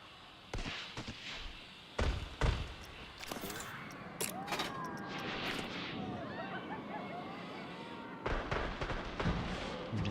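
Fireworks going off in the theme park game Planet Coaster 2, a busy wash of bangs and crackling bursts with several louder thumps, steady throughout at moderate level.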